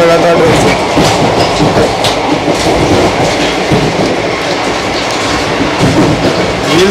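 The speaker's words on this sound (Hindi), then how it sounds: "अभी भी जो ट्रेन के पहिए वो आवाज़ कर रहे हैं, जैसे ट्रेन में कुछ फंसा हो या पत्थर फिर रहे हो लगातार ट्रेन से" Train wheels clatter and rattle loudly and continuously from inside a moving train, a dense rumbling clickety-clack as if stones were stuck in the wheels, with jolts and no talk.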